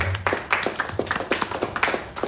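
An audience in Kampala, Uganda, claps in appreciation, a quick run of moderately loud claps over a soft background hum.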